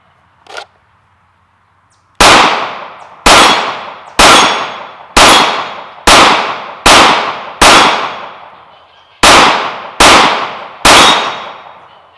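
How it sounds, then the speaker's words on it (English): Glock 19 Gen 5 MOS pistol with an optics plate fired on a range: ten sharp, loud shots in a steady sequence with short gaps, each with a brief ringing decay, and no talking. "So let's get some few rounds through this and see how it goes."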